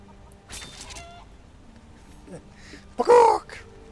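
Chicken clucking in a video game, with a few soft scattered sounds before it and a louder, brief squawk near the end.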